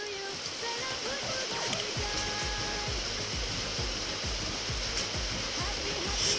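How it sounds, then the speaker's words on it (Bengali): Another batch of singara (triangle-shaped fried snacks) deep frying in hot oil, a steady dense bubbling sizzle that runs continuously and loud throughout. "আমার বাড়িতে লোক বেশি, তাই আরেক ব্যাচ বসিয়ে দিলাম ভাজতে"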